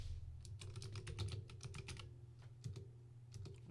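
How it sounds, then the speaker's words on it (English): Typing a name on a computer keyboard, a quick run of close, soft key clicks followed by a short pause and a few more taps. "I can just type his fucking name."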